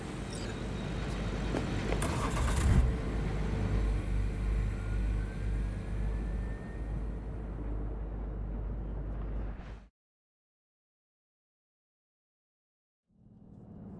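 A car in Cyberpunk 2077 rumbles as it drives off on a cold night, a steady low engine drone with a louder surge early on that cuts abruptly to silence before the rumble returns faintly at the end.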